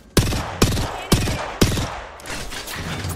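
Gunfire from the Apex Legends battle royale game on the Storm Point map: four sharp, loud shots spaced about half a second apart, followed by a denser stretch of rapid shooting and game noise.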